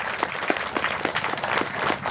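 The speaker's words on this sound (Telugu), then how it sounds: "ఒకసారి క్లాప్స్ కొట్టుకున్నాం" An audience at a public speech event claps together in a dense, continuous burst of applause, close and fairly loud for a couple of seconds.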